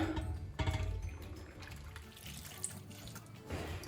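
Brine or liquid is poured into a jar of fermenting cabbage with beets, a soft continuous splashing and gurgling stream, faint and close, with no talking.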